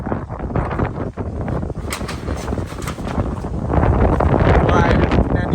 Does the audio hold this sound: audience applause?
no